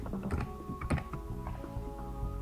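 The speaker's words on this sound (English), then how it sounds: "I'm just gonna type rock." Quiet, close keystrokes patter across a computer keyboard in a short uneven burst as a single word is typed in Photoshop.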